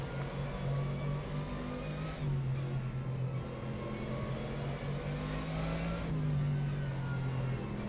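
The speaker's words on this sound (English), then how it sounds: "Racing this car here at night is so much fun" ACR Zakspeed Mercedes race car in rFactor 2 drones steadily at high revs through a night lap, a continuous loud engine tone that dips and rises with gear changes, no talking.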